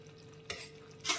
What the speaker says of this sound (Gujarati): એકવાર હળવા હાથે આપણે શાકને મિક્સ કરી લઈશું